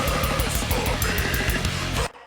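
A dense, loud death metal mix with a pounding, fast rhythmic low end and bright cymbal-like wash filling the top, playing continuously before cutting off abruptly near the end.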